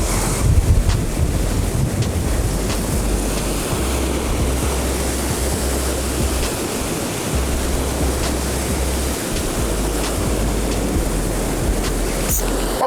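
Ocean surf washing steadily onto a rocky shore during a hirasuzuki (Japanese sea bass) fishing trip, a continuous loud roar of breaking waves with heavy wind buffeting the microphone throughout.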